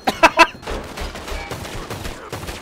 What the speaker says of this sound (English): I shot you in the throat